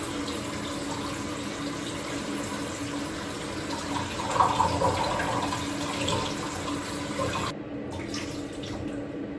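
Water runs steadily from a kitchen tap over rice grains being washed, a close, even gush with a few sloshing swirls in the middle before the flow abruptly cuts off near the end. No one speaks.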